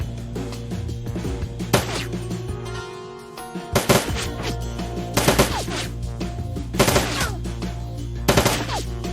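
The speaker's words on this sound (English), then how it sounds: "And they are shooting at the turrets" Rapid machine-gun bursts and gunshots fire repeatedly at turrets in the video game Shadowrun: Dragonfall, loud sharp cracks in clusters over a steady synth music bed, with no talking.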